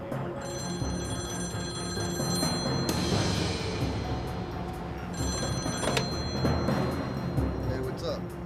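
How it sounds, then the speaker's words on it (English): A telephone rings in repeated bursts with a bright, trilling bell tone, fairly loud and near, while people talk over it. "It was Guthrie on the phone."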